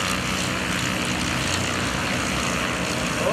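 An aerobatic propeller plane's engine roars continuously and loudly at the 2011 Greenwood Lake Airshow, a broad steady drone with a buzzing edge, no voices.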